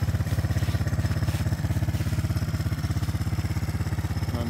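A 1982 Honda ATC 200ES three-wheeler sits idling close by, its engine chugging in a steady, rapid, even pulse that holds throughout.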